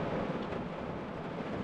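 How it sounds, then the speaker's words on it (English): Steady rain pours on a small micro car camper, a dense continuous patter and rumble heard from inside, fairly faint and unbroken, with no voices. "It's still raining, it's still pouring"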